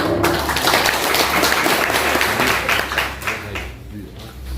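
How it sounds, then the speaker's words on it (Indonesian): A crowd applauding steadily and loudly throughout, a dense wash of many hands clapping that eases slightly toward the end. "tepuk tangan"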